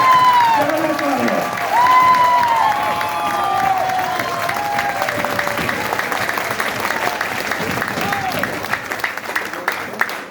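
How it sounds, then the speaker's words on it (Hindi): Audience at a success-themed talk by an HHI CEO applauds steadily for about ten seconds, a dense wash of clapping with some cheering and voices mixed in. "जबरदस्त ताली, जबरदस्त ताली"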